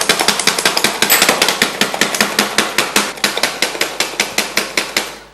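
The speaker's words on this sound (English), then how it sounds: "what I have to do is just chop this." Rapid, forceful knife chopping on a board in a kitchen, a loud, close, evenly paced string of sharp thuds that keeps a steady rhythm throughout.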